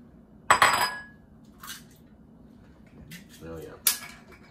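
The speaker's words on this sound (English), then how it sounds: "Why don't you crack some eggs into the bowl?" Eggs cracked into a mixing bowl while making biscotti: a sharp shell knock and clatter up close, then quieter taps and a second crisp crack against the bowl.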